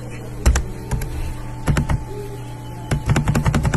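Close keystrokes on a computer keyboard during coding work, with scattered single clicks followed by a quick burst of several taps near the end, over a faint steady hum.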